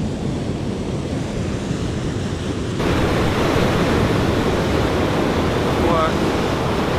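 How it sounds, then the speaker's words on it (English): Rough sea waves surge and break at night in a steady, loud wash of surf with wind buffeting the microphone, growing heavier partway through. "Water is getting rough."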